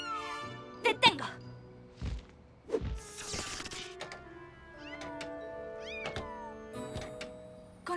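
A cartoon cat meows several times, with short rising and falling cries scattered across the stretch, mixed with thumps and clatter and occasional talk.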